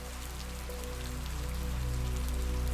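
Rain falls steadily on a surface around a cabin in a continuous, dense patter over a low hum that swells slightly toward the end, with no voices.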